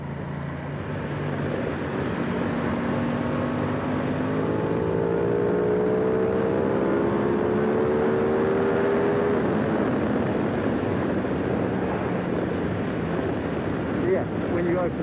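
An Aprilia Tuono 660 Factory motorcycle accelerates at full throttle in fourth gear, its engine tone climbing steadily while heavy wind rush roars over the microphone throughout.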